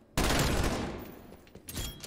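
Burst of automatic gunfire in Call of Duty Cold War hardcore multiplayer, a loud sustained volley that starts abruptly and trails off, with a few scattered shots near the end.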